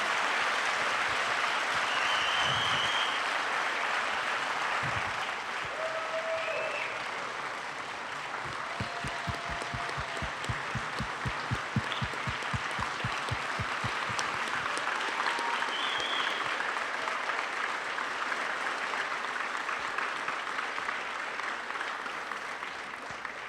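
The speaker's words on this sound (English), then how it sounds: "Ladies and gentlemen, can you please give a round of applause for Ruby and Ben?" A crowd at a youth sports awards ceremony applauds for two young honorees, a dense, sustained roar of clapping that holds steady at a fairly even level throughout, with only faint crowd murmur and no clear speech.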